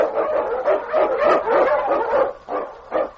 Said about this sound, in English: On, King! On, you husky